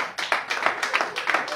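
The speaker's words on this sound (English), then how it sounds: "the man is clapping back there" A man in a church congregation claps steadily and quickly, around a dozen bright claps in a sustained run, with a faint murmur of voices underneath.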